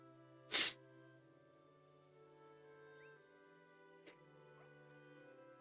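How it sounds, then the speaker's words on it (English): A single sharp sneeze bursts out near the start, then a steady hum continues with a faint click a few seconds later. "Feel like I'm gonna sneeze more"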